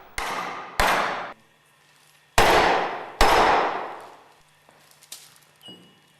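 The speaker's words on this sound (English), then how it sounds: "Carefully hammer the clutch driver into the grooved ball bearing with light blows using a rubber" A rubber mallet strikes a clutch driver into a grooved ball bearing on a GEA Westfalia OSD separator, four loud, separate blows with long dull decays and pauses between, then quiet faint tapping and handling.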